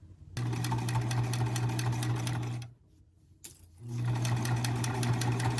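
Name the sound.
sewing machine top stitching a waterproof changing mat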